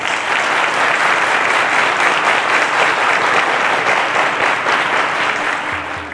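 A studio audience at a quiz show claps in a loud, sustained burst of applause that holds steady for several seconds before easing off at the very end.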